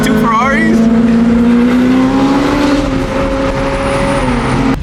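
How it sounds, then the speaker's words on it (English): A $400,000 Ferrari downshifts on the road beside a Porsche and another Ferrari, its engine revving in rising and falling tones that hold loud and close while people talk over it. "Look at those downshifts."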